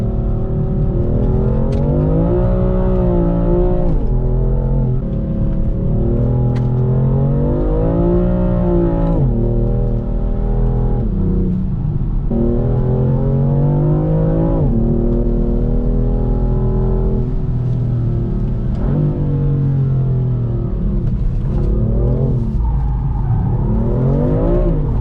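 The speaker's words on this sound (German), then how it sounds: "Jetzt fahre ich zu meinen letzten 2 Kurven, drifte da hoch und dann drehe ich wieder um." A BMW M4 drifting through corners, engine loud and close throughout with repeated rising and falling revs as it powers through the bends.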